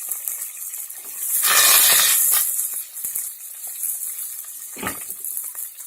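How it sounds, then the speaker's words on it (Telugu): Curry leaves and green chillies fry in hot oil for a raw banana and tamarind pulusu. A steady close sizzle swells into a loud hissing burst, settles back, then flares briefly again near the end. "కరివేపాకు కొంచెం వేగినాక ఇందులో మనం ఇప్పుడు పచ్చిమిర్చి వేసుకుందాం."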